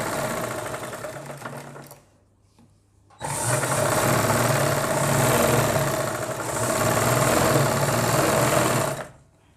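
A sewing machine runs in two bursts while stitching fabric for an umbrella palazzo: a short run, a pause, then a longer steady whirring stretch of stitching, close and loud.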